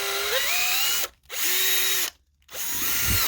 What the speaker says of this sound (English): I'm going to be using a 1/4 drill bit